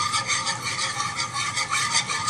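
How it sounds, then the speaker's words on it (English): A whisk scrapes rhythmically through half and half and a butter-flour roux in a pan over medium heat, making a close, continuous swishing rasp with steady back-and-forth strokes. "Let's go ahead and we'll just begin whisking this."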